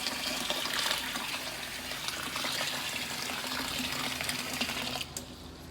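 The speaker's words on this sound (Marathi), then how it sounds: "असं 5-6 वेळा नळाखाली पाण्याच्या झोतवरती करून घ्यायचं." Peeled moong beans are rinsed under a running kitchen tap, a steady close gush of water splashing for about five seconds before it suddenly drops away.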